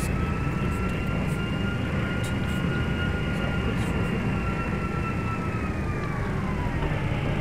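A Southwest airliner takes off from Atlanta's runway 9 left in Microsoft Flight Simulator X, with a continuous, loud jet roar and high whining engine tones that shift slowly in pitch.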